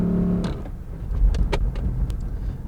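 Lexus GS450h hybrid sedan with CVT launching from a standstill, a low steady drivetrain hum and road rumble rising gently with a few faint creaks and clicks from the cabin.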